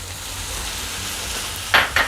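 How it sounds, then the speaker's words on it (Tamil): Minced boneless chicken frying with garam masala in a pan for a bread snack, giving a steady soft sizzle, then two brief scraping stirs near the end. "நூற்றம்பது கிராம் போன்லெஸ் சிக்கனை மிக்சியில் போட்டு அடித்து எடுத்து வச்சுருக்கிறேன் அதை சேர்த்துக்கிறேன்"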